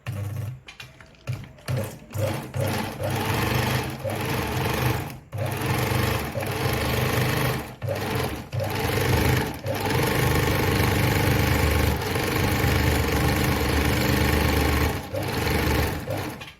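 A Veritas Zickzack 8014/29 sewing machine sews its number 7 stitch, loud and close, running in repeated bursts of rapid mechanical chatter separated by brief stops, with no voices.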